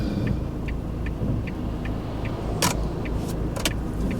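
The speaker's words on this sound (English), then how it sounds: "There's too many cars going about." Cars drive past on a road during a driving test, a continuous low traffic rumble heard from inside a vehicle, with faint regular ticking and a couple of brief clicks.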